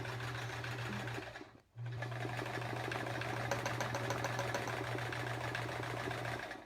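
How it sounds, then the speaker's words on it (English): A sewing machine stitches through quilt layers during free motion quilting, a steady close mechanical hum with a rapid needle rhythm, stopping briefly once before running on evenly. "every time I actually stitch through him, you can hear my machine a little bit more"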